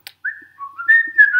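A single person whistles a short, wavering melody, close and clear, with a brief click at the start.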